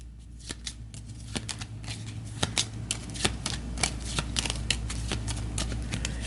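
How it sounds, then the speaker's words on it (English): A turn-order deck of cards for the Aeon's End board game being shuffled, a steady run of crisp riffling snaps and flicks up close, with no talking. "We'll give the turn order deck a shuffle."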